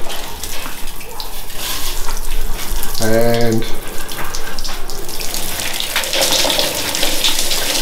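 Water running steadily from a fancy tap into a shower on a building site, a constant broadband rush lasting throughout at close range, with a voice speaking briefly over it.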